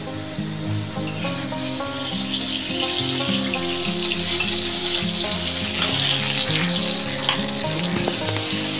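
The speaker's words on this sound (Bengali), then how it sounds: "আর এই জায়গায় ভাজাভুজিগুলো করে ফেলছি।" Food for a biryani meal fries in a home kitchen, a steady close sizzle with stirring clatter over a constant hum that sounds like a running fan, growing slightly louder toward the end.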